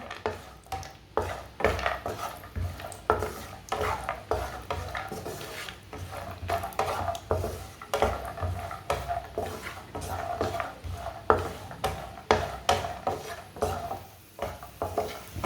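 Black chickpeas, cashews and pistachios roasting in a pan, with steady clinks and scrapes of a utensil stirring against metal, repeated through the whole stretch beneath a faint sizzle.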